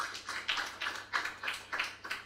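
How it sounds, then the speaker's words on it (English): Applause from an audience at a coding bootcamp demo night, heard as a rhythmic burst of moderate clapping that comes in regular waves, fairly close and with no talk over it. "So a big round of applause to them for accomplishing this in the last 9 weeks."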